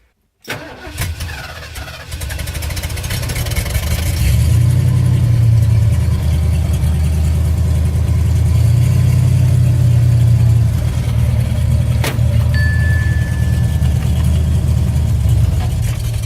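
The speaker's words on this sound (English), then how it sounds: "we're going to back the car up a bit" A car engine runs steadily at close range after a brief start, with a low, even rumble that rises slightly and holds while the car backs up, plus a faint short tone near the end.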